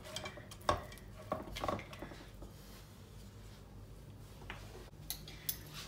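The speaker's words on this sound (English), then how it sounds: "Just gonna give this a little mix around before we add anything else into it." Margarine is mixed into a dumpling mixture in a bowl, heard as faint, sparse clinks and scrapes of a utensil against the bowl, quiet and close.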